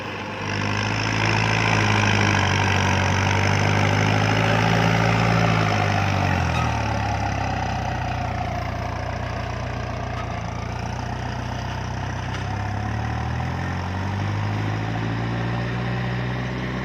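A Kubota MU5702 tractor engine reversing through gears one to four, a loud continuous diesel drone whose pitch climbs, drops and climbs again over the gear changes, heard close with no speech.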